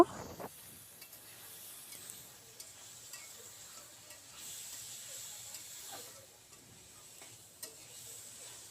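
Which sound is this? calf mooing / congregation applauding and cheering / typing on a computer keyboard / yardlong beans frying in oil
yardlong beans frying in oil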